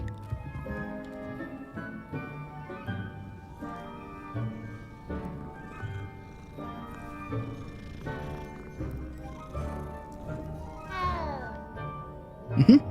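A cat meows repeatedly in the Hogwarts Legacy video game, clear and close over game music and ambience, ending in a sharp, louder burst.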